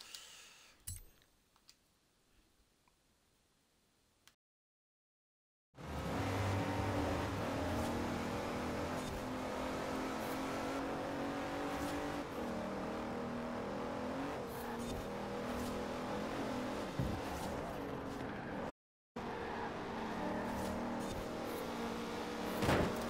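Alfa Romeo engine in Forza Horizon 4 droning steadily and loud for most of the stretch after a quiet start, with gear changes and tyre noise, briefly cutting out near the end.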